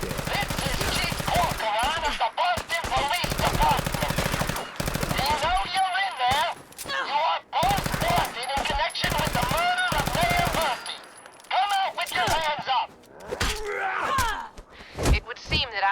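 Repeated gunfire in Fallout 4, dense rapid bursts broken by short pauses across the whole stretch, with grunting voices and occasional character speech mixed in.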